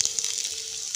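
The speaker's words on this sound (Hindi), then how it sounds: "अब इसमें कटा हुआ प्याज डाल देंगे, कटी हुई शिमला मिर्च डाल देंगे।" Chopped onion and capsicum sizzle steadily in hot oil in a pan while making cabbage manchurian, a close, continuous frying hiss with small crackling pops and no voices.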